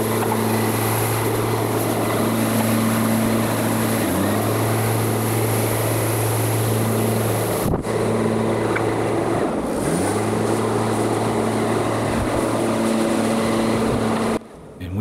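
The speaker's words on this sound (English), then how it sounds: "I had to fly the drone" A drone flies overhead with a loud, steady propeller whine whose pitch dips and recovers twice as it maneuvers, continuous and close throughout with a short dropout before the end.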